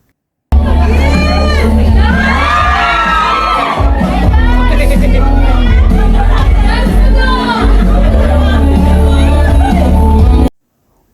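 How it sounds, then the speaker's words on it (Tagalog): A large crowd screams and cheers loudly and continuously, shrill voices overlapping in a dense, sustained roar for about ten seconds. "lalong hiyawan ang mga fans nang inulit pa ito ni Paolo"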